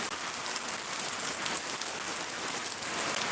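Rain in Shariatpur drums hard and steadily on surfaces nearby, a loud continuous patter of drops with no voices.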